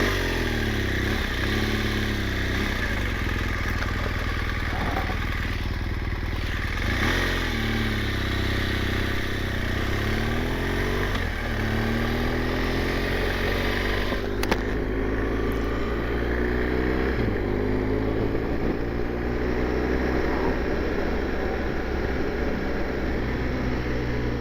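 BMW GS 1200 motorcycle ridden on a country road to Tan Hill, a continuous close engine drone with rising and falling revs through gear changes, wind rushing underneath.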